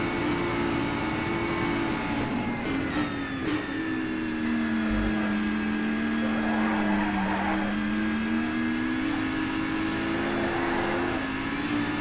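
A race car in Race Driver GRID climbs the Mount Haruna hill road in Japan, its engine holding a steady, loud drone that rises and falls with gear changes, with a brief tire squeal midway and no talk.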